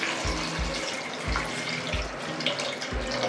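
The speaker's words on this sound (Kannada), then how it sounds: "ನಾನಿಲ್ಲಿ 1 ಚೊಂಬು ನೀರು ಹಾಕ್ಕೊತಾ ಇದ್ದೀನಿ." A jug of water is poured into a pressure cooker holding drumstick sambar with tomato, a close splashing gush broken by several short bursts and gurgles.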